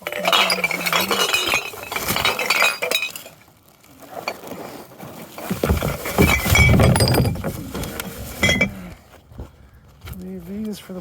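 Glass pickle jars clink and knock together as they are sorted out of curbside garbage, irregular close clatter of glass and rummaging amid voices talking.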